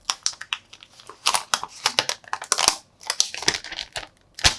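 Crinkly plastic wrap peeled and crumpled off a Xiaomi Mi 11i smartphone in cosmic black, a close, busy run of rustling and crackling bursts with short pauses, no voices.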